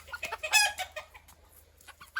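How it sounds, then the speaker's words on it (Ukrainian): A chicken clucks in short, bursty calls, fairly close and moderately quiet, with brief pauses between the sounds. "Курка."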